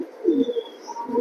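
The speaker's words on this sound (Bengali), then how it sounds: "মিস করবেন না এই কবুতর" Racing pigeons at a loft, a pair offered for sale, give soft low coos that rise and fall across a brief stretch, close by, with a faint higher chirp drifting in.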